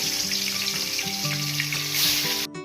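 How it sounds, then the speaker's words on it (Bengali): Koi fish sizzle and fry in hot mustard oil in a wok, a steady broadband crackle running the whole time with a tonal musical backing, ending abruptly. "তেল গরম হয়ে গিয়েছে, এবার মাছগুলো ভেজে নেব"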